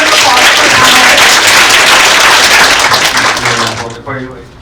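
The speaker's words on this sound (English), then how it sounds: "give a warm round of applause for" A seated audience at a real estate panel discussion in New York applauds in a dense, loud burst of clapping that holds steady and then tapers off near the end.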